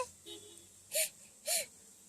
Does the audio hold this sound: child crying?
yes